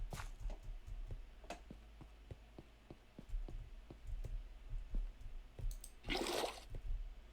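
Water placed block by block in Minecraft survival makes soft sloshing splashes, with a regular run of small taps and a louder gushing splash near the end, faint and close and with no talk.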